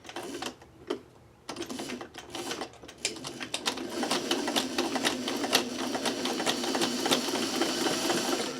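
Sewing machine topstitching a denim zipper pouch, starting with a few halting stitches and pauses, then running in a fast, steady, close-up rattling stitch rhythm for the rest.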